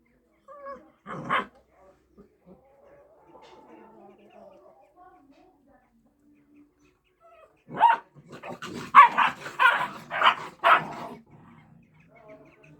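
Kangal puppies scuffle over a bone, giving a short yelp early on, then a burst of rapid, close yaps and growling barks near the end, with voices nearby.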